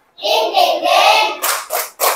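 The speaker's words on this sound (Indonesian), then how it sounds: "tepuk semangat" Students clap a 'tepuk semangat' ice-breaker chant in a classroom, with a steady run of loud, close hand claps followed by three distinct short bursts.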